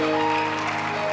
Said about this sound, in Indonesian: Boleh tepuk tangan buat Tuhan Yesus.